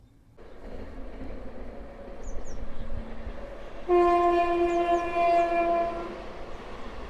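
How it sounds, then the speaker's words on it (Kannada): A passenger train approaches and passes close by, its rumbling wheels building in loudness before a loud, sustained horn blares over the rolling clatter of the carriages. "ಈಗ ಬಂತು ನೋಡ್ರಿ ಇದು ಯಾವ್ರಿಂತ್ರ ಬಂತ ಗೊತ್ತಿಲ್ರಿ ಪ್ಯಾಸೆಂಜರ್ ಗಾಡಿ ಇಲ್ಲಿ"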